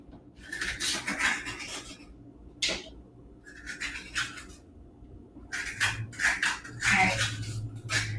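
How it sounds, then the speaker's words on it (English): A spoon scrapes seeds and stringy pulp out of a halved spaghetti squash, repeated rough rasping strokes in short bursts with brief pauses between them, close and fairly loud. "I'm going to scrape that clean."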